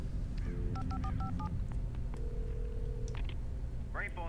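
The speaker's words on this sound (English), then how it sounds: "We want to call, so we are going to use the phone." Telephone keypad being dialed in the video game Alan Wake, a quick sequence of paired electronic tones followed by a sustained ringing tone and a few short electronic chirps, clear over low background hum.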